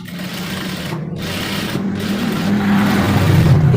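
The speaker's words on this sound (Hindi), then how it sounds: "इस तरीके से सिलाई लगा लेनी है।" A sewing machine runs steadily stitching a trouser belt, a continuous close motor whir and needle chatter that builds slightly louder toward the end, with no talk over it.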